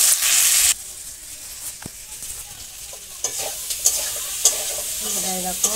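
Potato and pumpkin with salt and turmeric fry in a pan in a village kitchen, a sizzle that starts bright and loud, then drops to a quieter crackle broken by scattered stirring clicks and scrapes.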